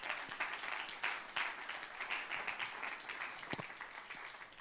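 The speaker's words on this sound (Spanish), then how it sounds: "Dale un aplauso a Jesús." A church congregation claps in sustained applause during a worship service, with dense, steady clapping at moderate distance and a faint voice underneath.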